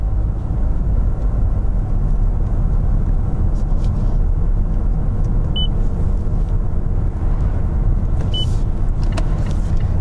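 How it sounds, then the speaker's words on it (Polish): A new 2018 Mazda 6 is driven along the road, heard from inside as a constant loud low rumble of engine and tyre noise, with a couple of faint high chirps over it. "Jadę oddać tę oto piękną, nową maździoszkę do serwisu"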